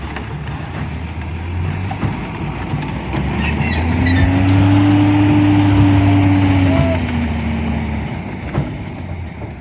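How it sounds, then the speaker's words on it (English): Heavy engines of a dump truck and an M5A1 Stuart tank rumble steadily nearby, swelling louder as one passes close, then easing off, with faint metallic clanks on top. "here we got the dump truck and the Stuart"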